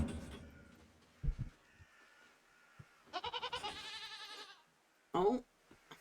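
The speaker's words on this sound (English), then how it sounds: "Have you seen a baby goat around here?" Baby goat bleats in the video game REKA, a few short bleating bursts near the middle and end, moderately loud over soft game music and ambience, with a voice speaking briefly early on.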